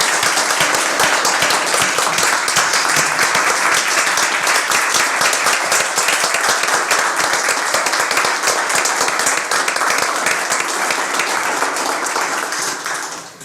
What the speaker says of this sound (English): Please let's show Director Berg by hand clap